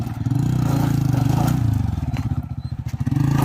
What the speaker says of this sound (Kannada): ನಮ್ಮ ಹುಡ್ಗನ CNG ಬೈಕು